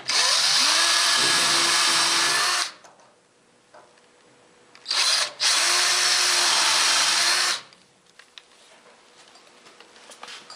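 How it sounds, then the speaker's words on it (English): A power drill pre-drills holes in pine trim for 1¼ inch drywall screws on a country pine wardrobe, whining loudly in two bursts of about two and a half seconds each, separated by a quiet pause and a brief blip. "the first thing I want to do is pre-drill some holes for 1¼ inch drywall screws to hold the trim on from the inside."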